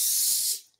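A steam iron hisses while steaming the hem of knit fabric, giving a close, loud burst of spray that fades out, then a brief new puff starts.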